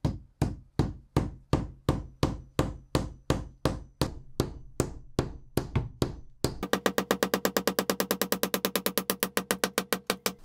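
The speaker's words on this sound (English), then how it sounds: "you just drill an 8mm hole, and then you basically just hammer it in." A hammer drives an expanding anchor into an 8mm hole drilled in an aerated brick wall. Evenly spaced, loud, close knocks come first, then a rapid run of quicker, lighter taps.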